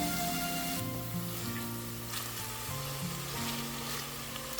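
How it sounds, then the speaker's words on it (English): Two hundred grams of lardons fry in vegetable oil in a cast iron pot, giving a steady close sizzle and crackle with no pauses. "In a cast iron pot, once again I add some vegetable oil so that I can fry 200 grams of lardons."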